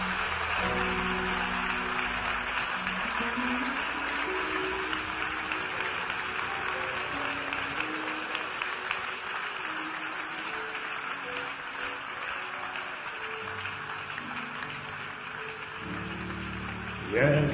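Congregation applauding during a church service, a steady dense wash of clapping sustained throughout, with musical tones and voices faintly underneath.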